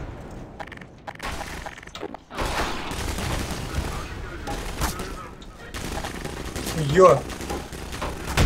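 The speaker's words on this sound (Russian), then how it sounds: "стреляют, походу." Gunfire in the Half-Life 2: Lost Coast video game, with bursts of shots and booms at mid distance under a man's excited exclamations and talk.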